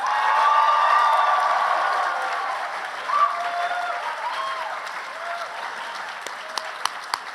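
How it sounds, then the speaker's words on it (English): An anime convention crowd applauds and cheers for a voice actress guest, a broad roar of clapping that starts loud and slowly tapers, with brief whoops and a few voices rising through it. "Give a round of applause to the English dub voice of Mako Mankanshoku, Christine Marie Cabanos."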